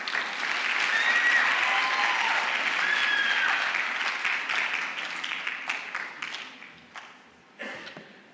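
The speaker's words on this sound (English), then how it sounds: "Another round of applause for Professor Dickson Andala, CEO, NRF." Applause at a national exhibition award ceremony honors Professor Dickson Andala, CEO of NRF, a broad sustained clapping from a large crowd that thins out near the end into scattered claps.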